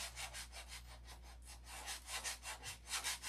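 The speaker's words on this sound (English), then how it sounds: "This is all detail sanding." Detail sanding by hand, with steady back-and-forth strokes of abrasive rubbing a surface in a regular rhythm, close and fairly quiet over a low constant hum.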